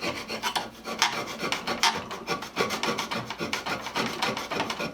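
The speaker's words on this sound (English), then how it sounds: "This copper tubing is actually heating up. I'm rubbing it back and forth on that file." Copper tubing rubbed back and forth across a rusty file, a continuous close rasping scrape with steady strokes and no talking.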